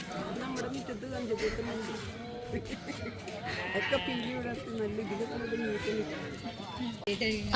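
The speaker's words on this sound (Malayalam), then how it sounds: "ആട് ആട്" Several goats bleat close by at Jawatha Park in Hofuf, Al-Ahsa, in wavering, overlapping cries, with people chattering in the background throughout.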